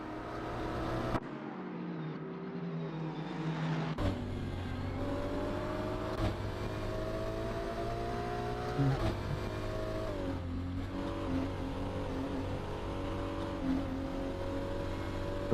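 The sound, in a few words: race cars on track during last lap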